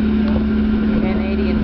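A ferry crosses Halifax harbour at dusk with a steady engine hum and wind rushing past, loud and continuous, while a voice talks over it.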